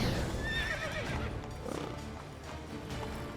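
Roach, the horse in The Witcher 3: Wild Hunt, gives a loud, close whinny with a rising and falling pitch, followed by a few clip-clop hoofbeats.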